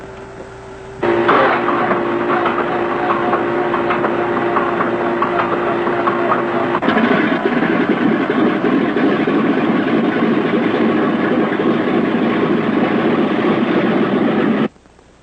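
A B-17 bomber's radial aircraft engine turns over on its starter and fires up, settling into a loud, steady, throbbing roar that runs continuously and close until it cuts off at the end.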